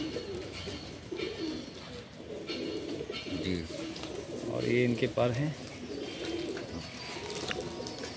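Madrasi pigeons coo close by in a loft, soft repeated low coos mixed with bird chirps, while someone talks over them.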